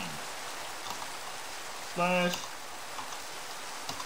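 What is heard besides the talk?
rain falling, from a video game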